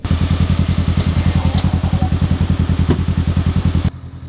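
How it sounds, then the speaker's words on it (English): A winch pulls a tuk-tuk while anchored to a Land Rover Defender with soft shackles, its motor giving a loud, fast, evenly pulsing drone that cuts off abruptly just before the end. "using the Dirty Defender as an anchor point, using a couple soft shackles, winching to the back"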